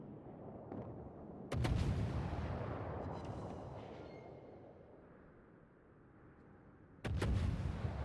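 Heavy warship guns on the French battleship Alsace fire in World of Warships: two loud, booming salvos several seconds apart, each leaving a long rumbling decay.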